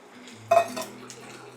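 Spoon stirring a sauce for char siu bao with spring onions in a pot, a short metallic clink and scrape against the pot, quiet and close, followed by fainter clatter.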